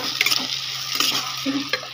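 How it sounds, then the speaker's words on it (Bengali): Cumin and salt sizzle in a hot kadai while a utensil scrapes and stirs in short, irregular strokes, close and clear. "দিয়ে আমি এটা ভাজা ভাজা করবো"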